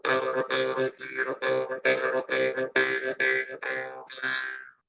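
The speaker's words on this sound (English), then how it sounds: "they call it jaw harp," A jaw harp plays a steady rhythmic pattern of repeated twangy, buzzing plucked notes with a sharp attack and a resonant drone, close and fairly loud.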